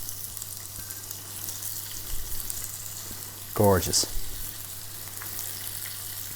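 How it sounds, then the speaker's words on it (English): Chicken skewers sizzling steadily in a hot pan, a continuous close frying hiss with a brief louder burst midway, and a voice speaks briefly over it. "Can you hear that sizzle? As soon as they hit the pan."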